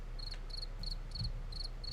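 Cricket chirping, played in short regular bursts of high-pitched trills about every third of a second, steady and fairly close over a low background hum.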